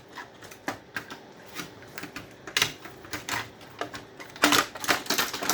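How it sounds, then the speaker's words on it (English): Snipping scrap copper wire with cutters while stripping salvaged parts, a series of sharp close clicks and snaps with some clattering handling noise, irregular and fairly quiet, no talking. "we'll cut this wire here"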